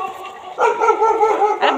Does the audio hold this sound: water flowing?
no